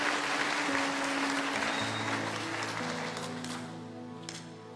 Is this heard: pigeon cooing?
no